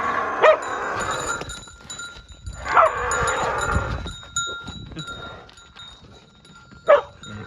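A dog barks three times at a buffalo farm, sharp short yelps spaced a few seconds apart, close and fairly loud over a low murmur of livestock and background noise.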